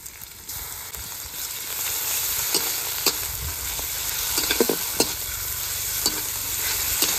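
Chopped onions with slit green chillies frying in fish oil in a pan, a steady dense sizzle with intermittent scraping clicks of a stirring spatula, close and continuous without talk.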